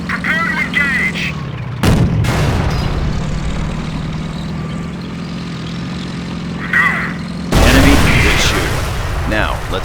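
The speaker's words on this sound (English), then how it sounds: "That shot from the Panzer scored a critical hit and has immobilized your tank." In Company of Heroes, a German Panzer tank's shot hits a Sherman tank with a sharp, heavy boom, followed later by a second loud blast over a droning engine rumble, with voices speaking in between.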